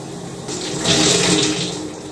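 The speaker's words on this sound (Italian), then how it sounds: "Momento doccia fredda" A shower runs with cold water, a close, continuous spray and splash that swells louder partway through and then holds steady, with no voices.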